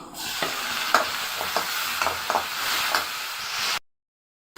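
Onion and tomato sizzle steadily in a hot pan, with repeated scraping stirs and taps of a utensil, before the sound cuts off.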